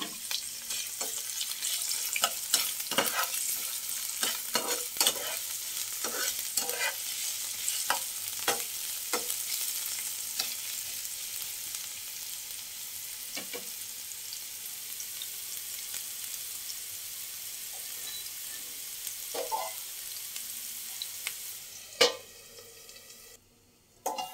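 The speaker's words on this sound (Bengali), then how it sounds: "গাজরটা ভাজবো হালকা ফ্লেমে" Chopped carrots frying over a low flame, a steady close sizzle running throughout with frequent sharp scrapes and clacks of a utensil stirring the pan, no voices.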